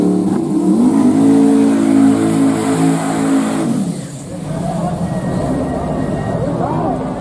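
A Mazda RX-7 race car accelerates hard on a track in Texas, its engine note climbing loudly through a rising sweep before dropping back, then building again with other engine noise and voices underneath.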